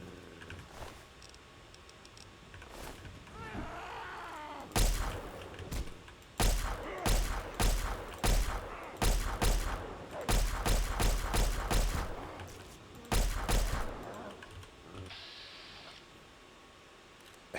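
Rapid gunfire in Fallout 3, loud close shots in bursts and single reports with short pauses, a dense volley in the middle and a few final shots before quieting.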